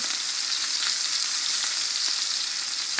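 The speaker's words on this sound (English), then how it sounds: "we're going to go ahead and flip this once. And we're getting a really good sear on that." Meat sears in a pan, a steady loud sizzle with bright crackling spatter filling the whole stretch, close up and with no voices.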